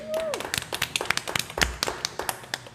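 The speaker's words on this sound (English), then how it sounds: "Clap it up one more time" Small studio audience at a podcast recording clapping in quick, uneven bursts, individual claps close and distinct, with a brief tone sweep at the start.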